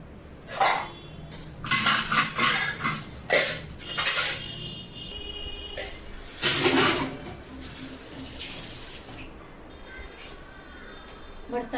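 Dishes and utensils are handled and put away in a home kitchen, giving a series of irregular clinks and clatters of pots, plates and cutlery at close range, with faint voices in the background.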